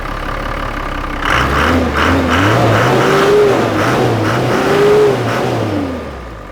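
A Toyota Land Cruiser HJ47 with a 12HT turbo diesel runs with the bonnet up, idling loud and close before revving in several rising and falling swells, a whistling turbo note riding over the engine.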